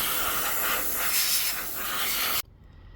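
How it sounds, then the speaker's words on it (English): Dust being blown off a 1/18 scale Greenlight Chevrolet police car model before chrome spray painting: a steady, close airy hiss lasting about two and a half seconds, then cutting off abruptly to near silence. "Always blow the dust off first."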